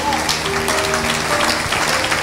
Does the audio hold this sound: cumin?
no